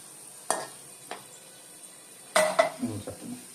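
Tamarind frying in oil in a pan gives soft sizzling, with a few sharp clinks of a utensil against the pan and a brief stirring scrape toward the end.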